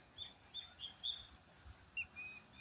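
Small birds chirp and tweet outdoors during bird watching at Camp Monk in Bengaluru, with faint, high, distant calls repeating over a low background hiss.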